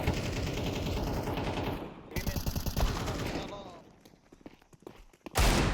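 Rapid automatic gunfire from a Counter-Strike match, loud and continuous for about two seconds, then broken bursts and single shots as game sounds and voice chat carry on underneath, ending in a sharp loud burst.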